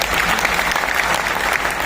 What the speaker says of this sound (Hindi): इस साइंटिस्ट के लिए ताली बजाओ